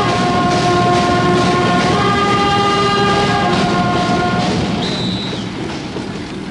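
A train in a film rolls past on a railway track, a loud continuous rumble with sustained horn tones and a brief higher whistle near the end, the roar easing slightly as it fades.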